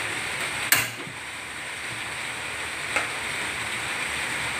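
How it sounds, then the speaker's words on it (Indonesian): Oil heats and sizzles in a wok on the stove, a steady bright hiss with a couple of sharp crackles and pops rising above it. "Pertama, kita panaskan minyak di wajan."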